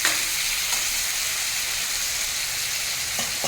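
Bottle gourd and tomato frying over a high flame in a pan, a loud steady sizzle and hiss with no pauses, close up and with no voices.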